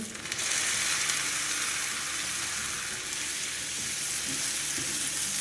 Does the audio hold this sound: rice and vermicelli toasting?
yes